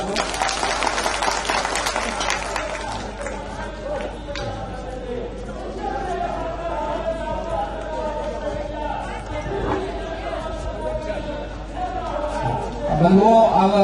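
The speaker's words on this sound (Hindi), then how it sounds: "थोड़ा ताली बजा दीजिएगा आप लोग।" An audience applauds at a magic show in Begusaray, with a burst of clapping at the start that fades into crowd chatter and talk, then swells again briefly at the end.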